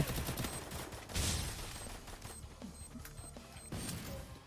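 Rapid bursts of gunfire in the video game Free Fire crackle continuously amid mechanical clatter, dense and somewhat distant, with no voices over it.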